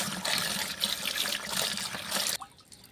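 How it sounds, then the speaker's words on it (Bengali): A garment being washed in water gives a close splashing and sloshing that runs steadily, then cuts off abruptly near the end, leaving faint drips. "আর জামাটা ধুয়ে নিই ভালো করে।"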